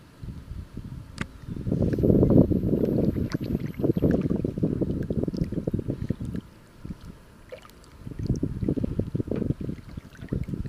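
A kayak paddled against a river current, low rushing splashes of paddle strokes in bursts separated by quieter gaps, with wind buffeting the microphone and no talking.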